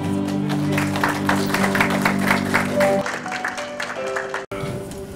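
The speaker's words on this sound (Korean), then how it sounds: "여러분 환영의 박수 부탁드리겠습니다" Applause from the audience at a Korean book launch celebration, a moderate steady clapping that fades and thins toward the end, with a short sustained tone underneath at the start.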